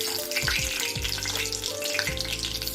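Bay leaf and stone flower fry in hot oil for a misal pav: a dense, continuous sizzle with soft popping, steady and close throughout, with no voices.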